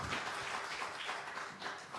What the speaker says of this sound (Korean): 다시 한번 격려의 박수 부탁드리겠습니다.